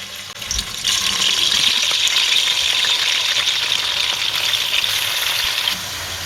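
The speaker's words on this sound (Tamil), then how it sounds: "இந்த எண்ணெயிலே நல்லா வதக்கி விட்டுருவோம்" Half a kilo of washed bone-in beef sautéing in oil in a pressure cooker, a loud, steady, continuous sizzle that starts abruptly and holds evenly before easing slightly near the end.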